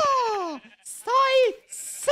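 Sheep bleating in the Minecraft video game while being killed: two loud, close, wavering bleats in quick succession, each followed by a short bright hissing sound.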